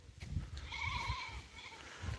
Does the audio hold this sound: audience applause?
no